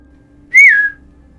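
A man gives a single short whistle indoors in a living room, a clear rising-then-falling tone lasting under half a second, loud and close against a quiet background.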